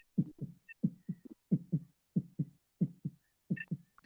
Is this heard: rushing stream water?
no